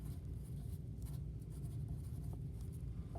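Pencil or pen scratching steadily across a piece of paper, close and quiet, in a continuous stream of small strokes with no talking.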